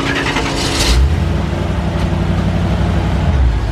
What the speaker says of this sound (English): Boy, got that supercharger!